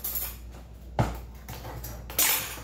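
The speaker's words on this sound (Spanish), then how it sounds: "vamos a abrir la lata de leche condensada" A can of condensed milk is opened close by: two sharp metallic clicks and scrapes stand out against a quiet room hum.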